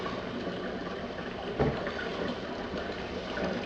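Cool water running into a home-brew fermenter for a Coopers pale ale base, a steady broad rushing hiss that holds evenly throughout, close by with no talk.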